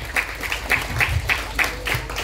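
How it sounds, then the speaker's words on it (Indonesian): Applause for the kindergarten teachers at a graduation service in a church hall, a room full of people clapping in a steady, even rhythm at moderate loudness. "mari kita berikan aplaus dulu ya kepada setiap tim guru kita ya"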